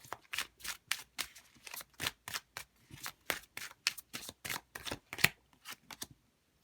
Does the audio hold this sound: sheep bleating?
no